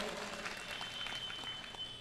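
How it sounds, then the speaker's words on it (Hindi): Brief burst of steady applause from a crowd, dense and continuous clapping at moderate distance. "महाराज जी के लिए जोरदार तालियां होनी चाहिए"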